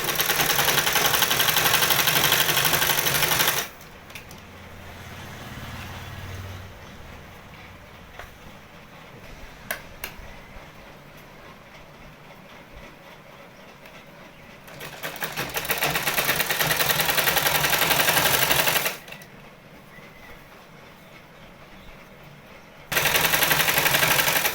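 A sewing machine stitches all around the waistband of palazzo pants in long loud continuous runs, stopping for quieter pauses with faint handling noises between bursts, close up and without speech.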